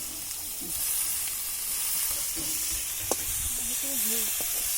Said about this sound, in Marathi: आता टमाटे सोडतो. टमाटे तेलात.